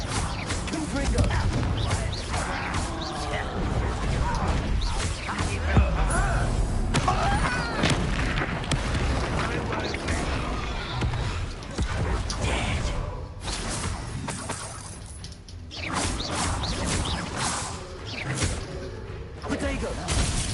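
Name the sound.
Confringo blasting spell in the video game Hogwarts Legacy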